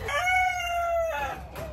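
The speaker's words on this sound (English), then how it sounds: "Slowly back away from the rooster." A rooster crows once close by, a loud drawn-out call that holds steady for about a second before falling away, with a short trailing note at the end.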